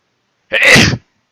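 One loud, close sneeze from a person, a short sharp burst standing alone in otherwise quiet surroundings.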